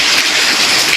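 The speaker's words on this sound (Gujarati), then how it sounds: "વરસાદ ચાલુ છે" Steady rain falls with a bright, even hiss, close and fairly loud, continuous and unbroken for the whole second, with no voices over it.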